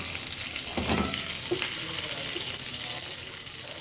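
Continuous sizzling of mustard and cumin seeds frying in hot oil, a bright steady crackle close up, with a few soft clinks of a utensil.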